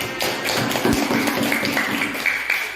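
Children in an Indonesian classroom clap their hands together, a steady run of quick, fairly loud, close-up claps without talk.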